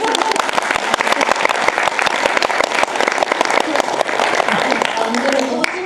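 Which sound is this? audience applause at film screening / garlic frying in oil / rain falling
audience applause at film screening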